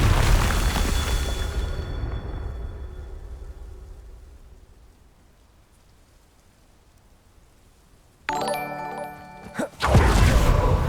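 A Confringo spell blast in the game Hogwarts Legacy: a loud crackling burst that fades over several seconds into quiet, followed by a sharp bright magical impact and another loud rush.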